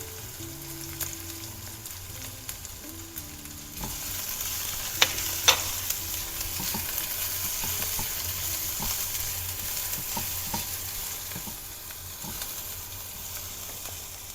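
Garlic, shallots, chili and lime leaves for a spice paste sizzle in a hot pan, starting quiet then bursting into steady loud frying with scraping stirs and clinks of a spatula, close and continuous with no talk.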